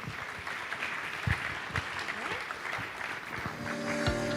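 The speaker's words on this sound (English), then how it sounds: "Can we have a round of applause for our panelists?" Audience at a Philippine Web3 festival applauding panelists, a steady patter of moderate clapping from a crowd, somewhat distant, lasting about four seconds.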